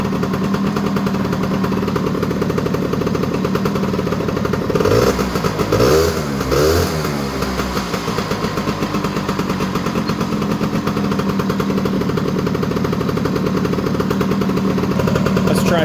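A Honda EZ90 Cub motorcycle engine idles steadily with a rapid, rattling putter, loud and close throughout, briefly blipped in the middle.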